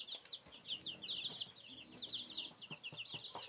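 Week-old chicks kept under a heat lamp peep constantly, with high, rapid, fairly faint chirps overlapping throughout, plus a few soft clucks and rustles.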